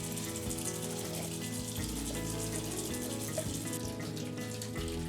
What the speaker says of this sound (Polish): Po utrwalaniu film płuczemy przez 6 minut pod bieżącą wodą.